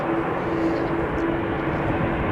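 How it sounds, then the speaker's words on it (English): A nine-year-old Bulgaria Air Airbus A320-200 taxis toward the runway at Amsterdam Schiphol Airport, its engines a continuous broadband roar heard from a distance, with no clear speech. "Bulgaria Air to Sofia, A320-200, 9 years old, number 2"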